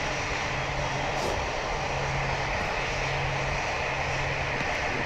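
Airliner jet engines run in a Roblox flight simulator game, giving a loud, continuous, steady roar with a low droning hum underneath and no pauses.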